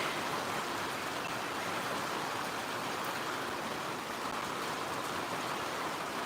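Monsoon rain in Punjab falls in an even, unbroken hiss, faint and steady, with no other sounds standing out.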